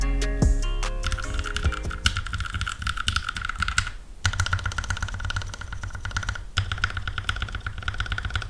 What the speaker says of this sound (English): let's listen to a quick sound test of how the completed board sounds